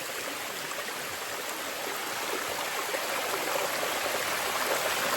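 A valley waterfall gives a continuous broadband rush of falling water, steady and fairly faint, with no voices heard.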